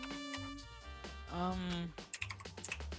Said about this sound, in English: Evan, what are you typing